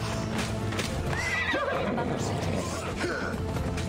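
A horse in Assassin's Creed Odyssey neighs and whinnies with a rising then falling call, over steady hoof clip-clop and ambient game noise.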